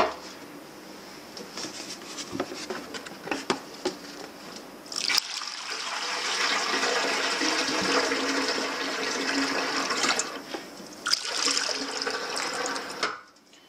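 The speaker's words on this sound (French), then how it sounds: "Donc là-dessus je vais rajouter de l'eau." Water pours steadily into an old 1953 Terrot ETM motorcycle fuel tank during restoration, a continuous splashing, gurgling fill lasting several seconds, with brief clinks and handling noises before and after.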